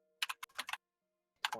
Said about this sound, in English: just keyboard ASMR